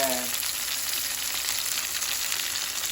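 Stuffed salmon fries in olive oil and butter on a stovetop, giving a steady, dense, close sizzle that holds even throughout with no talking.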